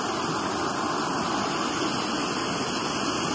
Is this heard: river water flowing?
yes